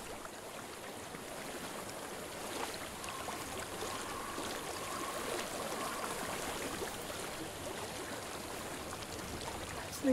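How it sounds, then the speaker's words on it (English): Flowing stream water in the video game Hellblade: Senua's Sacrifice, a steady, even wash of trickling water heard throughout at moderate level, alone without speech. "I hear water. Go to it."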